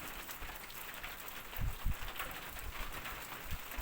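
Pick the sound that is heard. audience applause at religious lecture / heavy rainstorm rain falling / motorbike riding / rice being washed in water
heavy rainstorm rain falling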